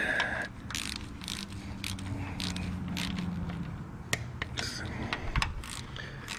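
A ratchet tightens the valve cover bolts on a 2004 Lexus ES330, giving steady close mechanical clicking over a low background hum, with a couple of sharper clacks near the end and no talking.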